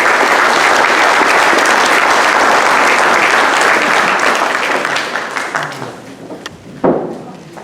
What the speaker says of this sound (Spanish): con un fuerte aplauso recibamos